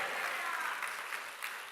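A church congregation bursts into brief, steady applause during a sermon, a dense wash of clapping hands that fades slightly toward the end.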